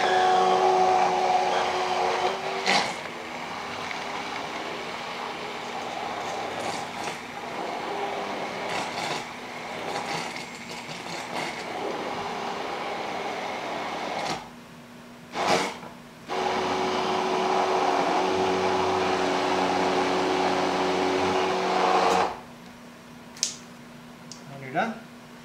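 A small vacuum sealing machine runs with a steady, loud whirring drone while sealing a marinade bag of deer tenderloin, cutting off briefly and restarting, with someone talking over it.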